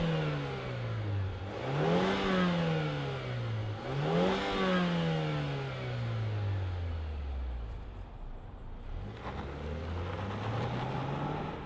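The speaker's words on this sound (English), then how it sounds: "let's fire up this 4-banger turbo and see it zoom off" A turbocharged four-cylinder engine in a 2025 Mazda CX-5 Turbo AWD compact SUV revs up loudly several times, each rise falling back, then settles and climbs again as the SUV pulls away, close and steady with no talk.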